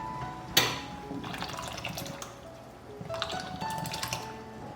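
Coconut milk or milk poured into a pot of cooked red bean and sago dessert, a continuous close liquid splash and trickle that swells, eases, then picks up again, with no voices.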